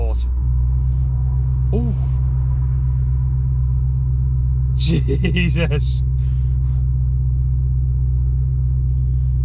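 A 720bhp 2020 Audi RS6 in sport mode gives a steady deep exhaust drone and rumble heard from inside the cabin, with people talking and exclaiming briefly over it.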